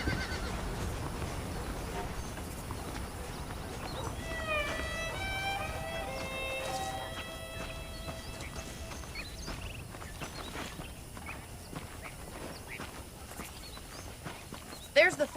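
Saddled horses in the Red Dead Redemption video game give a clear whinny in the middle, with hoof clops and footsteps around it and voices talking.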